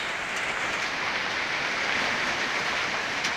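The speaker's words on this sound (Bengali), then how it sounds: "এতক্ষণ বাতাস ছিল, এখন বৃষ্টি শুরু হয়ে গেছে" A Kalbaishakhi storm in Kishoreganj, Bangladesh brings gusting wind and light rain as a steady, fairly faint broadband hiss and rush, unbroken and without voices.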